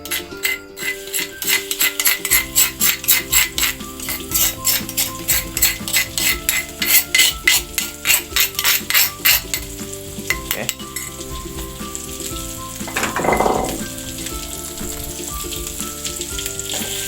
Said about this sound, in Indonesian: ini bumbu yang sudah kita haluskan tadi kita tuangkan di wajan